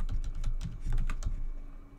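Quick clatter of keys on a computer keyboard while a new folder name is typed, a dense run of close, light taps lasting about two seconds with no voice.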